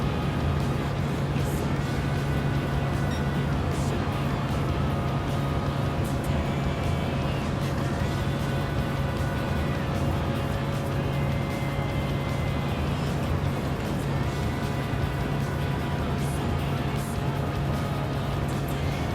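A race car engine in a Daytona 500 video game drones loudly and steadily without a break, with a faint tonal hum underneath and no talking.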